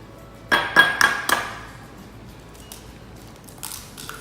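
Two large eggs cracked against a bowl while making cheesecake: a quick run of four sharp taps and clinks up close, followed by quieter shell and bowl sounds.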